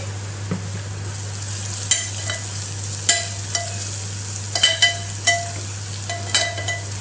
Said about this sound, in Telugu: ఇప్పుడు పసుపు, కారం, ఉప్పు వేసుకొని కలుపుకోవాలి.